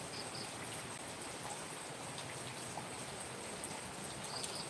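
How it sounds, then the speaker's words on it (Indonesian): Rain falls steadily on a holiday (Lebaran) day, a soft, even, continuous hiss of drops with a few faint scattered taps, quiet and unbroken throughout. "Hujan ya, ternyata"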